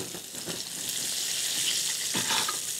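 Sardines fry in a pan for an Andalusian escabeche, a bright steady sizzle with a few soft clinks and scrapes of the pan or utensil.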